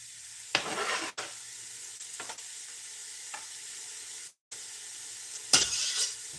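Green apple pieces stirred into a hot pan of frying onion, garlic, ginger, turmeric and cumin, with a steady close sizzle broken by brief scraping stir bursts and a short gap.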